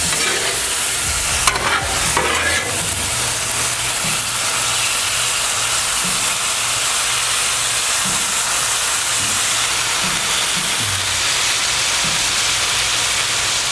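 Spicy beef teriyaki stirred on a Blackstone griddle, a loud constant sizzle and hiss with repeated scraping of a spatula against the flat-top, close and continuous with no talking.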